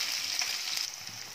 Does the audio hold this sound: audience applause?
no